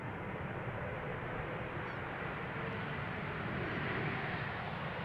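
An ITA Airways airplane at Amsterdam Schiphol Airport produces a steady, broadband jet engine roar, loud and constant without pause.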